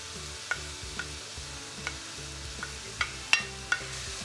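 Leek, scallion and fennel cook down in a pan with a steady soft sizzle, punctuated by a few sharp utensil taps and scrapes spaced across the stretch, close and unaccompanied by speech.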